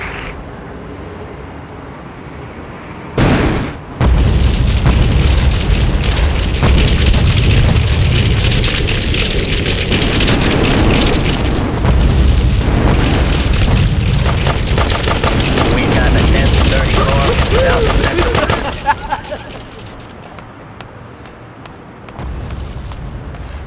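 Gunfire and rocket launcher explosions from the GTA2 multiplayer game form a loud, continuous barrage. Rapid machine gun rattle blends with heavy booming blasts for about fifteen seconds, then fades toward quieter game noise.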